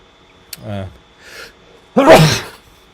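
A person speaks briefly, then a single loud, sharp sneeze bursts out nearby.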